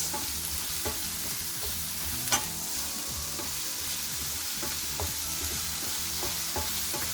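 Food is stirred in a hot pan, soft sizzling under repeated scraping strokes of a utensil at an irregular pace, fairly quiet and close with no talking.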